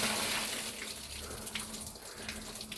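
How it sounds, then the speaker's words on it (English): Rainwater runs steadily down a sloped roof toward the drainage, a continuous broadband wash with a faint low hum under it, fairly close and without talk. "see all the water flowing nicely on the sloped roof"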